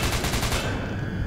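Gunfire in SCP Containment Breach, a rapid burst of automatic shots rattling in quick succession and then cutting off into a dull ringing tail, loud and close.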